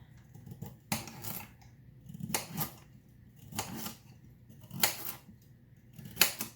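Carrots are chopped on a board for an oven-cooked meal, giving several separate knife strikes about a second apart, each a sharp, close, moderately loud crunch-thump over quiet background.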